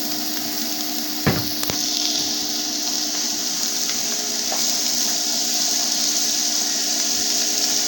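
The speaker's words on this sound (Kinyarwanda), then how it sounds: "Noneho tugiye gushyira amavuta ku ipanu duteke. Shyiramo ibitunguru" Onions frying in oil in a pan while cooking an omelette with chips, a steady close sizzle with a faint background hum and a single sharp clack early on.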